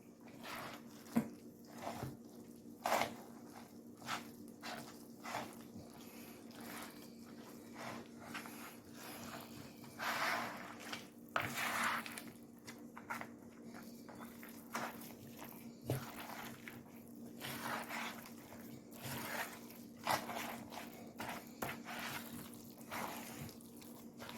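Stuffing for an asparagus-stuffed Cornish hen is stirred and mixed in a bowl, with soft, moist squishing and intermittent scraping strokes over a low steady hum.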